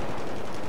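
Rapid automatic gunfire in the video game Battlefield 3, Conquest mode on Damavand map, a dense continuous burst of shots filling the whole moment, loud and close.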